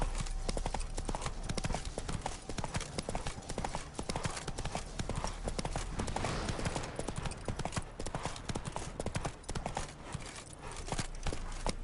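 Roach, the horse in the video game The Witcher 3, galloping with rapid, rhythmic hoof clip-clops that run steadily throughout, loud and close, with a voice speaking briefly over them.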